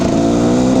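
Motorcycle engine on a ride near Frazier Park, held high in the revs, a loud, close, steady drone that runs smoothly throughout.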